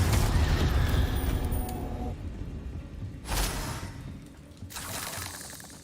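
Spell effects in Hogwarts Legacy, including icy Glacius, explosive Confringo and disarming Expelliarmus casts: loud blasts and crackling bursts with rumbling, shattering tails, fading between several sharp impacts.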